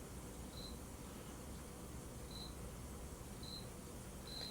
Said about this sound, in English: If you guys can hear a cricket chirping right now